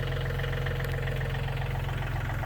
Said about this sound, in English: pack it down by driving the tractor over it a bunch of times